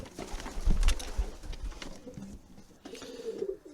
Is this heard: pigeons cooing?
yes